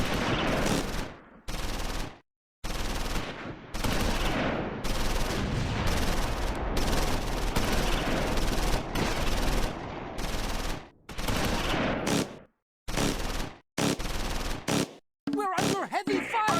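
Machine gun fire in the World War II strategy game Close Combat 4, Battle of the Bulge, sounds as loud, dense bursts and rattling volleys broken by short silences, with brief voice callouts near the end.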